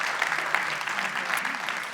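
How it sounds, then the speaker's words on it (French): Audience applause at a forum, steady dense clapping throughout the two seconds, fairly close and even in level with a few sharper individual claps standing out. "Merci beaucoup pour les applaudissements."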